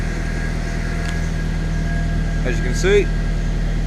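The ECK20 project car's engine idles steadily as its idle slowly drops while the choke comes off and the coolant is bled, making a low continuous drone under a brief spoken remark.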